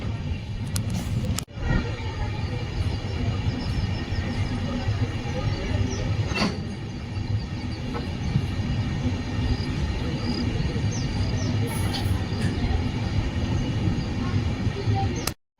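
A passenger train pulling out of Sakrayapatna station on a Malenadu line in Karnataka, heard from on board as a steady, loud rumble of wheels on rails that runs throughout, with occasional clicks and brief knocks.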